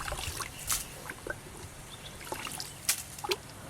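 Water rinsing salt off organic fertilizer in a garden beside a lime tree, faint trickles and splashes coming in short irregular bursts, close and quiet with no talking.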